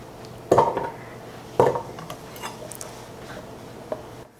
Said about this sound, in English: now we're just gonna chop up some potatoes